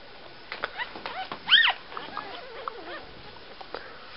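A litter of four little puppies gives a few short, high, thin whimpers and whines, one louder cry in the middle, over a quiet background.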